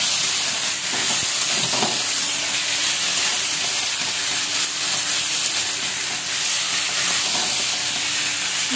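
Potato and eggplant being stirred in a hot frying pan with salt and turmeric, a steady broadband sizzle with scraping stir strokes throughout, loud and close with no talking.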